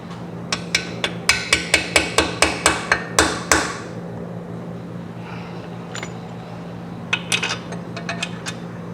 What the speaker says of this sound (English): Best hammer ever.